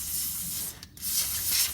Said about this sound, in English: get some WD-40 and or silicone spray